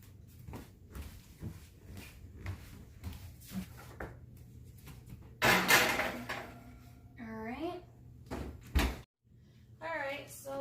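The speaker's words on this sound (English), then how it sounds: "so now we're gonna put this in the oven" Cupcakes for a keto birthday cake going into a preheated oven, with a few door and tray clatters and a louder thump partway through, among soft kitchen noise and people talking nearby.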